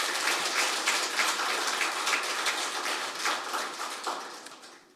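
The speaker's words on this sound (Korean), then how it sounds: "제 의견에 동의하면 박수를 부탁드리겠습니다." An audience applauds at a Korean public hearing on mental health policy, a dense, steady wash of many hands clapping that fades out over the last second.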